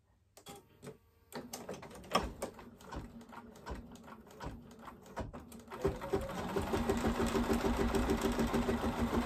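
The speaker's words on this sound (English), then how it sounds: "And then it's going to do another stitch. It's going to tack all of this down together." An embroidery machine tacks down layers of material for an in-the-hoop zombie face mask, starting with sparse mechanical clicks and thumps, then settling into a fast, steady, close stitching rhythm.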